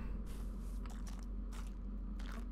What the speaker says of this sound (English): don't you just love that fresh crunch of snow?